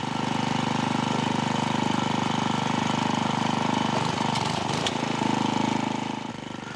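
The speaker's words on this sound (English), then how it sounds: "the wrong depth setting that results in the machine bucking or jumping" A Troy-Bilt garden tiller set at the wrong depth runs with a steady loud engine drone, its tone briefly faltering and surging midway as the machine bucks and skips.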